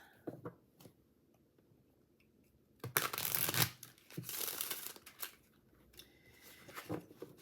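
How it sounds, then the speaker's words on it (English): Shadow Seer tarot cards with a high-gloss finish are riffled and shuffled in a few quick bursts of papery flapping, separated by quiet pauses and small taps, close by. "Let's do this shuffle here for us."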